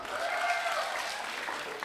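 At a wedding celebration, guests break into sustained, even clapping for the couples, a brief steady wash of applause with a faint vocal tone threaded through the early part.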